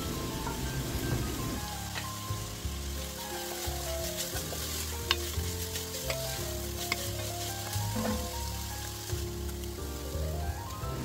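Fresh garlic, oregano, homegrown tomato sauce and beef broth hit a hot pan for Italian spaghetti meat sauce, giving a constant crackling sizzle with occasional stirring scrapes and no talking.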